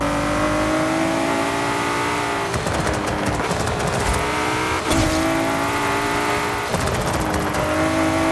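A GT race car engine in a racing video game revs hard and steadily, its pitch climbing and dropping through gear changes and corners, loud and close with no voices.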